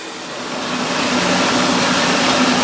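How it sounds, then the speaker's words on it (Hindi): A destoner combined rice mill machine spins up into a loud, steady broadband whirring roar with a faint hum underneath, rising in the first second and then holding constant. "ये मशीन जिसको D stoner combined rice mill कहा जाता है"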